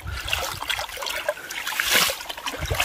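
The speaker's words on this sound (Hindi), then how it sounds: "आज इनको पानी मिल गया ये पानी से खेलना शुरू कर दिया इन्होंने" A child plays with lake water, making splashes, trickles and dribbles that come close and fairly loud in uneven bursts, with outdoor background and no clear talk.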